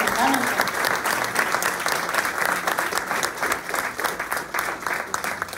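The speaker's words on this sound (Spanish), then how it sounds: "vamos a darles, antes de irnos, un nuevo aplauso, por favor, más fuerte" Audience applauding at a Catholic university students' gathering: a loud, steady burst of clapping from many hands, sustained for several seconds and tapering slightly near the end.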